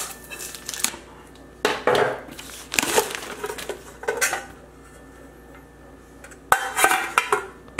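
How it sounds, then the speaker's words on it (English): A 10-inch stainless steel fry pan and its lid being handled, with bursts of metallic clanks, scrapes and rattles separated by brief pauses, loud and close with no talking. "And the final one, it's a fry pan. It's 10 inch. It comes with a lid."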